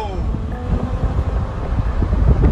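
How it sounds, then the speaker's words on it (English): Wind ahead of a thunderstorm buffets the microphone with a loud, low, gusty rumble that carries on unbroken, and faint voices can be heard beneath it. "It is getting windy."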